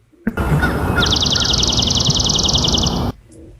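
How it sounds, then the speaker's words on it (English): A swamp sparrow's rapid, even trill of repeated notes rings out over a steady rushing background, lasting about two seconds before abruptly cutting off. "in this case, this was swamp sparrow"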